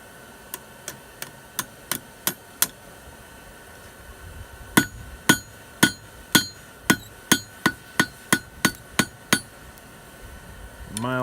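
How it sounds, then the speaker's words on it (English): A hammer drives a nail to set it and upset its head while hooks are made: a light run of about seven sharp, evenly spaced metallic whacks, a pause, then about ten heavier, louder blows close by. "And then we're gonna set it with a couple of good whacks. And that's going to upset that nail head."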